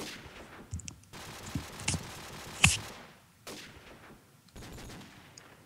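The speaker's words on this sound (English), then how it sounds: "We do see exchange of fire in that mid street." Gunfire exchange in the game Counter-Strike on a mid street, heard as several scattered shots and short bursts at moderate distance, one sharp loud crack standing out.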